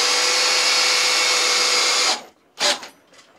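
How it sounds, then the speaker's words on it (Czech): A Parkside Performance PPBSA 20-Li A1 cordless drill, set to drilling mode with up to 150 Nm of torque, gives a loud steady high-pitched whine for about two seconds. It then stops and follows with a couple of brief bursts. "takže to přepnu na vrtání"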